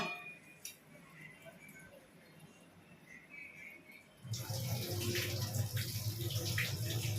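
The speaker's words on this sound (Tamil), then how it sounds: "இப்போ வந்து அரிசி நம்ம கழுவி நம்ம ஊற போட்டுக்கலாம்." Rice being washed in water for mutton biryani: quiet clinks at first, then a sudden loud rush of running, sloshing water from about four seconds on that continues steadily to the end.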